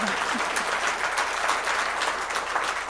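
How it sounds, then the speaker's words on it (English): Audience applause at a Sunday spiritual-living church service, a steady wash of many hands clapping at even loudness throughout, filling the room without any voice over it. "Applaud again."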